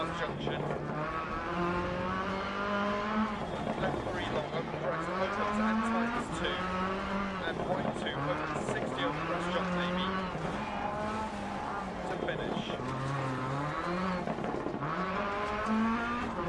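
A 2007 Ford rally car in the Dirt Rally video game on a Swedish stage, its engine revving up and dropping back repeatedly as it shifts through the gears, loud and steady throughout the clip.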